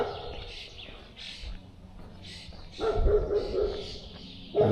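A dog in a Latvian town barks a few times nearby, with sharp bursts standing out over a steady outdoor background and light chatter between the barks.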